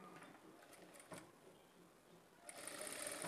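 A sewing machine runs a quarter-inch-margin stitch along a folded blouse piece, a steady soft whirr with faint ticks that grows louder and brighter near the end.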